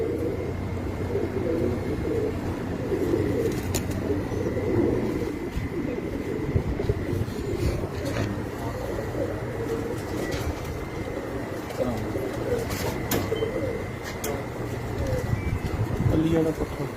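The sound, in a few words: pigeons cooing on a rooftop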